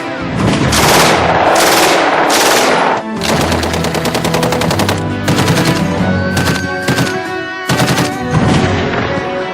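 Loud, close machine gun fire in long rapid bursts of overlapping shots, with brief pauses between volleys and no voices.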